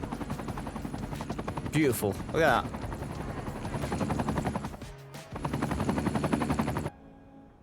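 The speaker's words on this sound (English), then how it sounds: "Why do I keep hearing a helicopter here?" An air ambulance helicopter's rotor chops steadily throughout as Cities: Skylines 2 game audio, with rapid gunfire-like bursts in the middle and a brief spoken remark over it.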